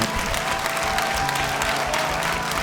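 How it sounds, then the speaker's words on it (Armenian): Audience at a talent show audition on a stage in Armenia applauding, a dense steady burst of clapping from a large crowd that carries on without pause, no voices. "ես ուզում եմ բոլորը ձեզ բարձր ծափահարեն"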